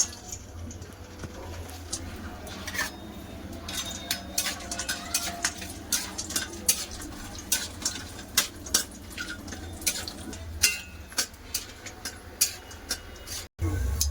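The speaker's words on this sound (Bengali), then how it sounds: "একটু বড়ি ভেজে নিলাম" Lentil dumplings (bori) fry in mustard oil in a village kitchen pan, giving a soft continuous sizzle beneath frequent clinks and scrapes of a utensil against the pan.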